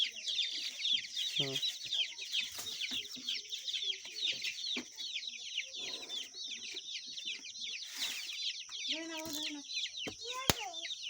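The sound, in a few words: chickens clucking while being fed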